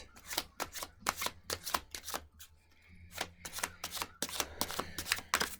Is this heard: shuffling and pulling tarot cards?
yes